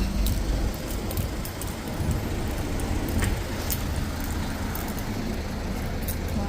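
A steady wash of intermittent rain falls on an overcast day, blended with passing road traffic and a few brief clicks, with no voices.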